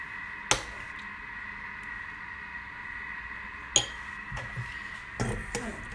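A spoon mixes charmoula marinade for a fish and seafood pastilla in bowls, making a few crisp clinks against the bowls over a steady background hum.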